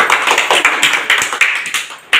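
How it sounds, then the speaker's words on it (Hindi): A small crowd claps for winners of a banana-eating contest, a quick run of sharp, uneven hand claps close by, steady for about two seconds before stopping. "तो सब लोग ताली बजाएं इनके लिए"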